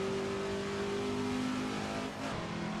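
Ford race car engine in the Assetto Corsa racing game, a 5-speed car, roars with a steady, loud, dense drone that holds high revs and shifts pitch briefly near the end.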